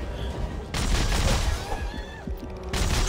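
Rapid gunfire and booming blasts in Dead Space 3 during a boss battle, dense and continuous across the clip, with a brief lull partway through before the shooting resumes.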